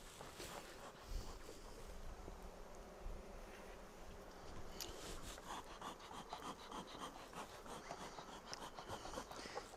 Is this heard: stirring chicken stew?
no